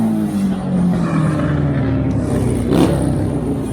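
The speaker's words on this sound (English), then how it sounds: "Noisy motorbikes." Motorbikes roar past on a nearby weekend country road, one engine note rising and then falling as it sweeps by, loud and close against steady background noise.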